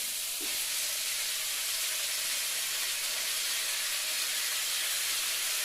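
Fresh spinach dropped into a hot pan of dry-roasted mung dal curry, releasing a steady loud hiss and sizzle of steam that carries on evenly and close by.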